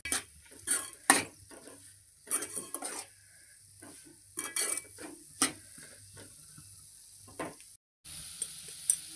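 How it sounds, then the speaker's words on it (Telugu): Ridge gourd curry is stirred in a pot as salt and chili powder are mixed in, with repeated clinks and scrapes of a spoon against metal over a faint simmer, coming in irregular bursts. "ఇక ఉప్పు కారం మంచిగా కలుపుతున్నా"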